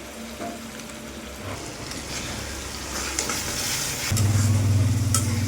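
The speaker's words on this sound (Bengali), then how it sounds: "মশলাটাকে খুব ভালো করে কষতে হবে তেল ছেড়ে দিয়েছে" Spice paste of turmeric, Kashmiri chilli powder, red chilli and salt frying in oil for a fried chicken curry, giving a steady close sizzle with stirring scrapes that swells louder near the end.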